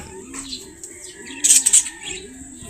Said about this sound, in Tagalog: Ayan mga kalapatids, nagitog na naman siya.